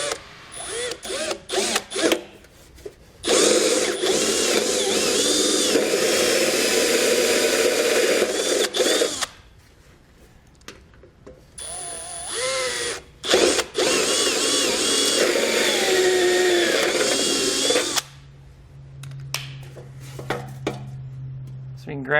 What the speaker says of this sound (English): we're going to use that dimple as a guide to actually drill out a hole